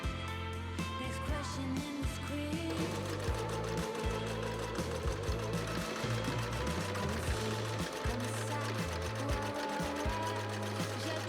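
Sewing machine running steadily while top stitching the placket of a Victorian-style bodice, a continuous rapid mechanical chatter with rhythmic needle thumps, close and even throughout.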